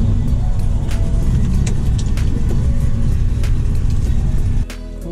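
A Chevrolet Camaro taken out into the snow after a cold start runs with a loud, rough, steady rumble close by. The tone shifts lower near the end as the idle changes.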